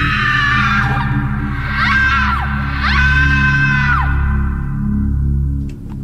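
A screaming sound effect in a Halloween horror story segment: several rising and falling shrieks rise over a steady low droning background, loud and drawn out, with no speech.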